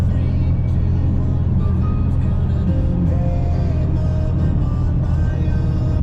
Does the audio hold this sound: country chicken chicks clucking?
no